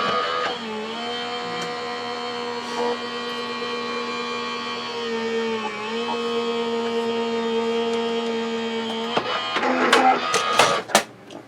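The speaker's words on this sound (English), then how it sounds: "we're going to run it through the die cutting machine." An electric die cutting machine hums steadily for about nine seconds as it feeds a pop-up greeting card through, ending in a burst of louder clattering and rustling close by.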